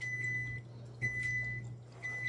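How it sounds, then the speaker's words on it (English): A home kitchen oven gives a steady high electronic tone as it reaches temperature while pepper herb steak is being prepared, the beep running continuously with brief breaks under a low constant hum. "that's just the oven getting the temperature"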